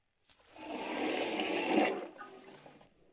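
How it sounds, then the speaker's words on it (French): A toilet flushed by tipping a bucket of water into the bowl, a loud rushing gush lasting about a second and a half that drains away into gurgling, close up with no talk. "c'est comme ça que vous tirez la chasse d'eau."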